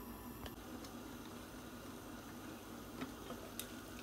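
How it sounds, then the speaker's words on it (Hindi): Dal simmers at a boil in a covered pot on a medium flame for mutton dalgosht, giving a faint, steady bubbling hiss with occasional soft pops. "तो देखिए दाल में बॉईल आने लग गया है।"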